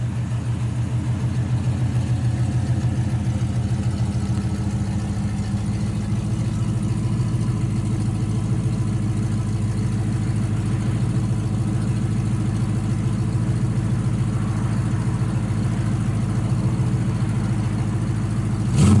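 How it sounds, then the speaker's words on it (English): A 1972 Chevrolet Nova SS with a 350 V8, ceramic-coated headers and dual exhaust idles steadily with a deep, loping low rumble, close and continuous with no talking. "Sounds good out the exhaust."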